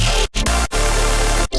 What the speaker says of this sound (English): we have this main melodic dub engine preset right here